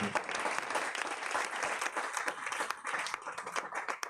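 A church congregation at a Wednesday prayer service claps and applauds steadily, a dense, busy patter of many hands filling the room for the whole stretch.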